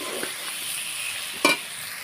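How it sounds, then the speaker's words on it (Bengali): Brinjal and potato pieces fry in a pan with a soft continuous sizzle, a few light stirring scrapes, and one brief sharper clink midway, all close and fairly quiet. "এইদিকে সবজিটা ভাজা হয়ে গেছে"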